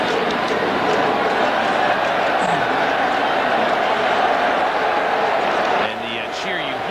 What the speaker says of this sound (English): the cheer you hear is because the ball was thrown back to Heredia well past him